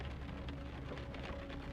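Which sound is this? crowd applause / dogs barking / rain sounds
rain sounds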